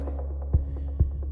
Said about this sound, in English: the washing machine that is just making some really weird sounds that are getting into my microphone